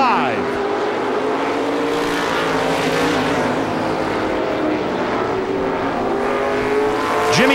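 A pack of 350 supermodified race cars roars around Lee USA Speedway, a loud continuous engine howl with passing pitch sweeps as cars go by, under a track announcer's commentary.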